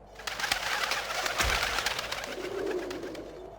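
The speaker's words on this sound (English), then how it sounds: "Ah, damn pigeons!" Pigeons coo softly amid a busy wash of fluttering and rustling in the PlayStation game Legend of Mulan, a dense, continuous bird noise without any talking.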